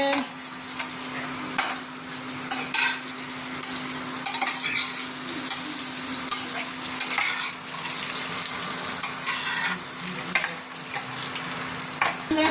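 Pieces of colocasia leaf vadi are turned in a hot frying pan, with a continuous close sizzle broken by repeated scraping and clinking of a spatula against the pan.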